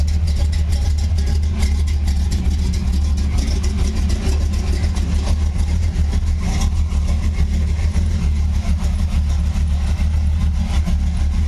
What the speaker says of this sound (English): So much quieter inside now that the exhaust exits out the side.